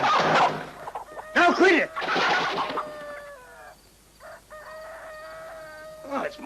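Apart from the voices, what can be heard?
chicken clucking and rooster crowing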